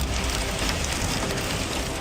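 Heavy rain pouring down steadily, a dense loud wash of drumming water with no pauses, close and unbroken.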